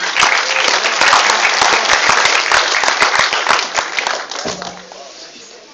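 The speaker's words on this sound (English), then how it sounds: "We always clap more for a woman." An open-house audience claps for a woman coming up to present, loud and close, with many hands in a fast, crowded rhythm that gradually tapers off near the end.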